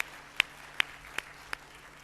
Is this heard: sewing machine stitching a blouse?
no